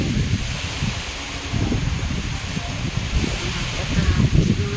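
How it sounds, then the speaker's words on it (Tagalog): Strong wind at night roars through rustling leaves in a steady, loud, broadband wash, gusting slightly stronger toward the end. "Nakakawanda yung lakas ng hangin."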